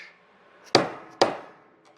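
A polished 1/4-inch bolt struck twice to form flutes in an aluminium fuel tank rib for a Bearhawk experimental airplane, pressed against a half-round form: two sharp, close metallic knocks about half a second apart, with quiet between them.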